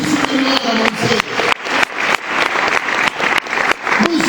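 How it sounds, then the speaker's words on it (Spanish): A church congregation at a Spanish-language service claps loudly and rhythmically, strong bursts of hand claps landing in a quick, steady beat, close and full. "Aplaudan al Señor, hermano."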